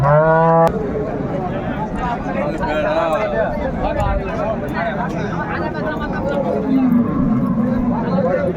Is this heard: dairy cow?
yes